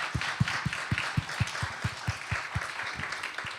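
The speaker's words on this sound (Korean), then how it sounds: "참 우리 환영의 박수 한번 합시다." Steady applause from a church youth worship congregation, a brisk run of clapping with some louder individual claps standing out, continuing evenly throughout.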